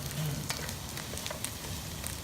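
Steady close sizzling of rice patties frying in a pan, with crackles and pops over a constant hiss.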